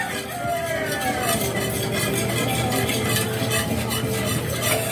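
A coffee leche mixture is stirred continuously in a pan, a steady close swishing and scraping with a soft sizzle underneath, with no pauses.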